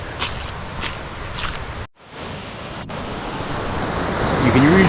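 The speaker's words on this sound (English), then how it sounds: "Ooh, another puddle. Splash, splash, splash." Footsteps splash through a puddle on the Appalachian Trail, with a few quick splashes early on under a steady wash of wind noise.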